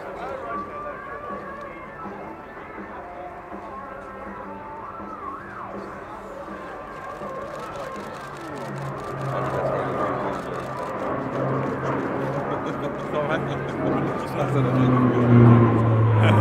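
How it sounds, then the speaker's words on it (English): C-27J Spartan military transport aircraft in a flying display at an air show, its engines a broad droning roar that swells steadily louder as it turns, with a commentator talking over it throughout. "following for a tight right turn, demonstrating the agility of the aircraft that is unique in its class"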